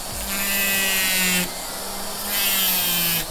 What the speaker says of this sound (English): got this in my Dremel